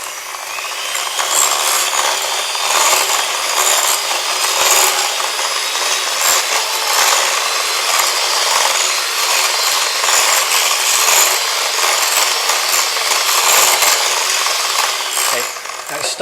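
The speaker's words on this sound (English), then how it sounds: "we're going to whisk it so that it forms peaks" Cream being whisked with icing sugar toward stiff peaks, a continuous loud rapid whirring and scraping in the bowl with no pause.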